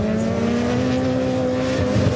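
An RX supercar at the 2022 Race of Champions roars close and loud in a sustained, steady high engine drone, with faint hints of tire noise and no voices.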